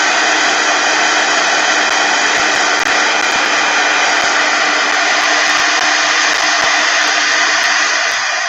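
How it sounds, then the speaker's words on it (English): Heat tool running steadily to dry wet paint blobs on an art journal page, a continuous loud whirring hot-air blast that holds at an even level throughout with no talking. "I'm thinking now I'm using the heat tool, because these are blobs anyway, so I can heat these or dry these"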